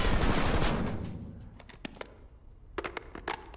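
Assault rifle fire in the Warzone video game, with a loud sustained automatic burst at the start followed by sharp short bursts of shots, close and punchy.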